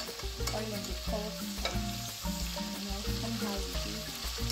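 Pork fries in hot oil in a pan, a steady close sizzle with irregular stirring scrapes and bubbling, no voices heard.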